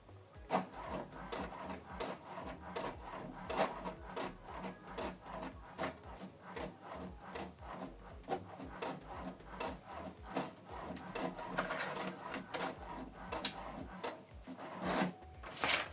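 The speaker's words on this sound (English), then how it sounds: "It's now printing." An HP Deskjet printer prints a document, giving a faint run of scraping, rasping mechanical strokes and clicks in an uneven rhythm.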